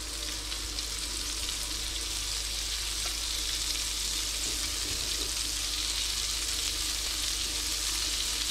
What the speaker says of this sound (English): Quick sear on that side.